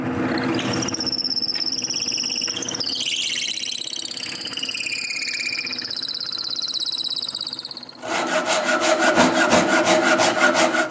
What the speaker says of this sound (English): So I check it on the lathe and drill the pivot hole.